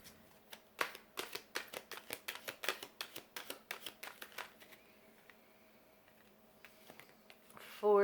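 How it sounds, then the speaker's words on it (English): Soul Journey tarot cards are shuffled up close in a rapid run of crisp, regular riffling snaps, then a quieter stretch with faint handling before a brief louder thump at the end. "Let's get you the Soul Journey cards out here."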